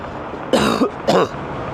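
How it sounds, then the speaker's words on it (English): Two short, harsh coughs about half a second apart, close and fairly loud over a low steady background hum. "I apologize for that cough"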